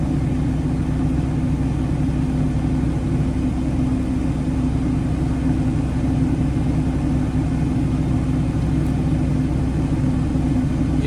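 A truck carrying a three-wheeled Moffett forklift on its back drives steadily, with a loud, constant low engine rumble and road noise filling the interior and no speech.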